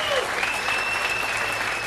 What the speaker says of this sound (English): let that ripple of applause go